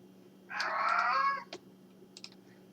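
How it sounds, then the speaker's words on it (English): A pet cat named Toes gives one clear, drawn-out meow at close range, followed by a few soft keyboard clicks over a low steady hum. "I don't know if you guys can hear my cat Toes. He wants something."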